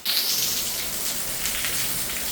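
Heavy rain pours down outdoors during a storm, a dense, steady hiss of drops on surfaces that holds loud and unbroken throughout with no voices.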